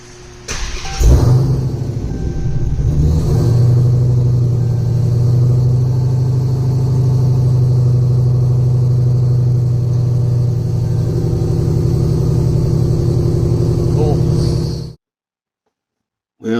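A Dodge Demon engine fires up with a sharp starter crank and catch, then settles into a loud, deep, steady idle rumble close by for over a dozen seconds before cutting off abruptly.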